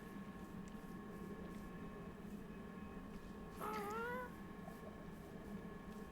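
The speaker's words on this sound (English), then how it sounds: "Now I hear one of the cats. The cats also are kind of loud." A cat meows in the Minecraft video game, one drawn-out wavering meow standing out over a steady faint background hum, brief and fairly close.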